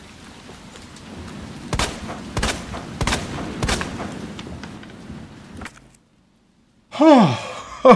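Gunfire in the Resident Evil video game: a rapid series of sharp, loud shots, then a brief silence and a burst of bright, warbling effects near the end.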